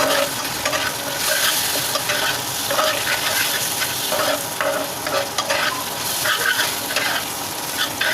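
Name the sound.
spice paste with garlic being stirred and fried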